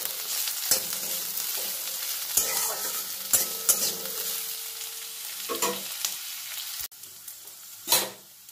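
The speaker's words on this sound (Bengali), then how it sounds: "পেঁয়াজ, রসুন ও কাঁচা লঙ্কাটা একটু ভাজা ভাজা করে নিয়েছি" Onion, garlic and green chili, with a dried red chili added, frying in a pan for a prawn and drumstick-flower bharta: a steady sizzle broken by several sharp scraping stirs, close and fairly loud, with no voices.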